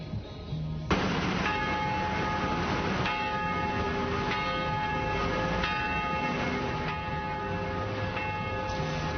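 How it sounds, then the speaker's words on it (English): Church bells ring out continuously in downtown Springfield, Massachusetts, overlapping peals with a steady rhythmic strike, loud and unbroken with no voices. "as church bells rang"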